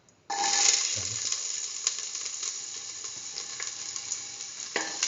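Shallots sizzling in hot oil in a pan for a potato, chayote and coconut milk stew, a loud continuous frying hiss starting abruptly and holding steady, with a few clicks of stirring.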